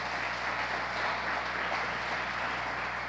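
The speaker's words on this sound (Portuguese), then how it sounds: "Se você crê nisso, aplauda o Senhor bem forte" Church congregation applauding together in a steady, dense wash of clapping that stays even throughout, heard at moderate distance with no voices over it.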